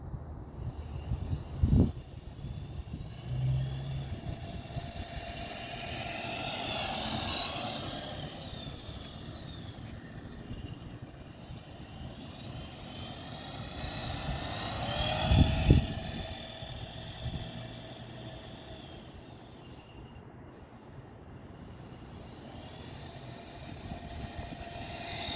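A CEN Racing F450 RC truck makes a speed pass in slow gear outdoors, its motor whine rising and sweeping as it approaches, passes and fades, with a few sharp knocks along the way.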